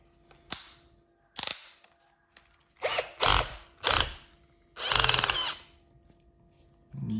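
A brushed Tex.AC TAOE-CD33 cordless screwdriver fires in short bursts: a few sharp clicks, then several brief motor whirs and one longer run, close and loud with quiet gaps between.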